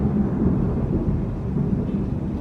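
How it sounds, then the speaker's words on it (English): Heavy rain and thunder outdoors make a steady, dense low rumble with a rushing wash over it, continuous and fairly loud for the whole stretch. "And it's raining outside. Raining like hell."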